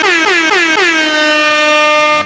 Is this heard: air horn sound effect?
yes